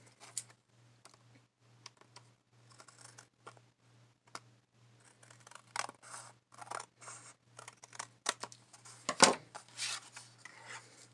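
Scissors trim a stencil masterboard, producing a run of short crisp snips and paper rustles, sparse at first then busier, close and fairly quiet under a faint steady electrical hum.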